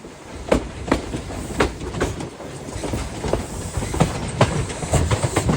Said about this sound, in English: you will see the advanced passenger train